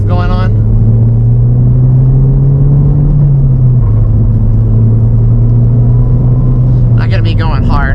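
A stock, untuned Ford Fiesta ST engine drones and revs while driving, a loud, close cabin rumble with a rising then settling engine note and rev hang, with a person talking over it.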